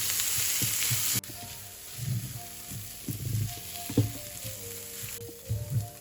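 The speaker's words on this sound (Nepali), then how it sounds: "अदुवा लसुन खोर्सानी राखेपछि यतिको भुटेर आयो" Ginger, garlic and chili sizzle and fry in a pan, with a steady hiss broken by bursts of stirring and spoon scraping, heard up close with no talking.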